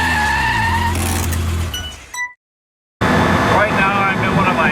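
McLaren F1 engine pulling hard under acceleration, a loud close interior roar with a rising tone that breaks off into a brief silence and then comes back, with a voice talking over it.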